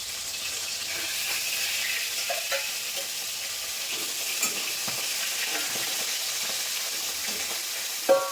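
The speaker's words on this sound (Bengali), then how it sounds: "এবার হচ্ছে মাছের মাথাগুলো ভাজবো" Fish heads sizzle and fry in hot oil, a steady crackling hiss with occasional louder pops and stirring sounds.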